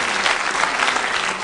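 A brief burst of dense, loud audience applause at a live debate show, continuous clapping from a crowd with no gaps.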